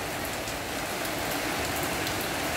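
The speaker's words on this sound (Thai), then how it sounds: "ฝนตกกันไหมคะทุกท่าน อากาศร้อนอบอ้าวมาหลายวันวันนี้มาแล้ว มาแล้วตกแล้วค่ะ" Heavy rain pours down in a dense, even hiss on a Thai homestead after days of hot, muggy weather, unbroken and loud for the whole stretch with no voices.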